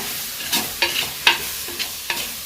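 Chicken curry sizzles in a pan as chili powder is stirred in, with a continuous fry hiss broken by about five evenly spaced scraping strokes of a spoon against the pan.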